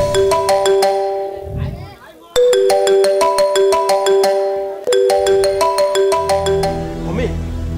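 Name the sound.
mobile phone ringtone ringing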